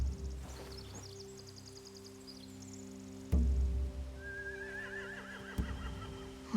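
Horses whinny in The Walking Dead: The Final Season, with one high neigh early and another rising whinny later, over a low droning ambience broken by two heavy thuds.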